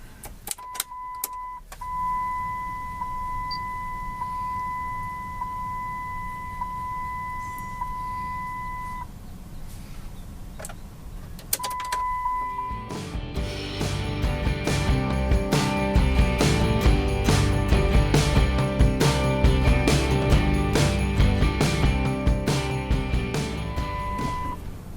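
A 2006 Dodge Cummins diesel truck, its fuel filter freshly changed, sounds steady chime beeps before the starter cranks and the engine catches into a loud, rattling idle that carries on to the end.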